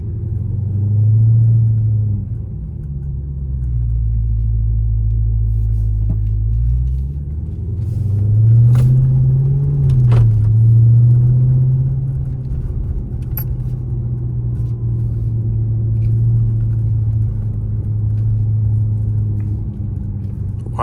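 A Dodge Charger Hellcat's engine rumbles low and steady throughout a daytime neighborhood drive, swelling slightly around the middle, with occasional faint clicks and jingles from inside the car and no talking.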